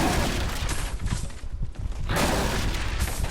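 Hunting rifle fire in the video game Remnant: From the Ashes, with loud booming shots overlapping in a dense, continuous barrage and a brief lull in the middle.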